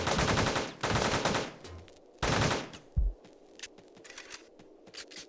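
Rapid bursts of gunfire ring out in the top-down shooter Teleglitch, with two long automatic volleys followed by a heavy single shot and scattered quieter impacts.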